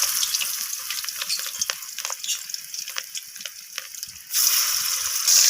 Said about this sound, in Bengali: তো তেলটা গরম হয়ে গেছে, এখানে আমি এরপর একে একে মাছের পিসগুলোকে এখানে তেলের মধ্যে ছেড়ে দিচ্ছি।